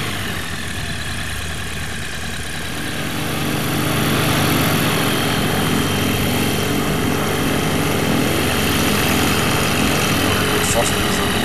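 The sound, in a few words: microlight aircraft propeller engine taxiing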